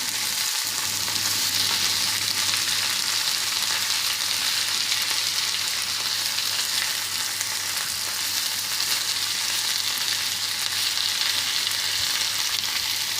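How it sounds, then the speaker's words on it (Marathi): A tomato omelette fries in a pan with a loud, even, continuous sizzle of hot oil that holds steady throughout, close up and with no voices. "एक बाजू शिजल्यावर ऑमलेट उलटा आणि दुसऱ्या बाजूने छान शिजवा."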